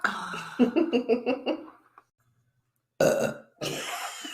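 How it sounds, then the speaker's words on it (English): A short spoken phrase, a pause of silence, then a loud, abrupt belch-like burst followed by more voice. "I didn't break wind, I just burped."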